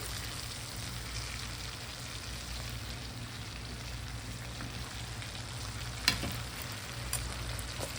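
Jamaican chicken wings fry in a pot of hot oil with a steady, dense sizzle and crackle, broken by a couple of sharper pops near the end, with no voices.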